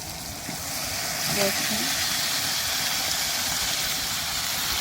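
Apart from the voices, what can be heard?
meat added to hot spiced oil, sizzling in pan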